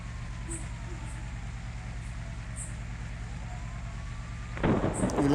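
Rain and thunder on a ghat road around a stopped Mahindra van: a steady low storm rumble with soft rain, then a louder crackling burst near the end.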